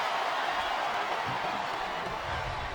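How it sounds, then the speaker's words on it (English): A continuous roar of a large wrestling arena crowd cheering in WWE SmackDown vs. Raw 2007, broad and steady at a consistent loudness throughout, with no distinct voices standing out. "Listen to the crowd, JR."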